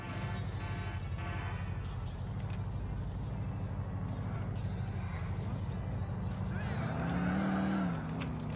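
A car engine drones steadily while driving in GTA 4, with a rising rev or tire sound near the end, set under game voices and background noise.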